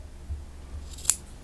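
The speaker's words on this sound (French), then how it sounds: "Et les fils qui sont à l'arrière, vous allez simplement les couper à ras." Scissors give a single short snip while trimming crochet thread ends flush against the back of a flower for a handbag, alone against faint room background.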